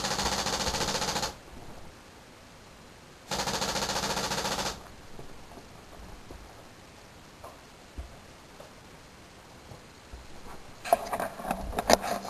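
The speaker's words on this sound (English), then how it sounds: "That is how you make a laser activated paintball gun." A laser-activated paintball gun, triggered by a motion detector, firing in two loud sustained bursts of rapid rattling shots, followed by quieter scattered clicks and ticks with a few sharp pops near the end.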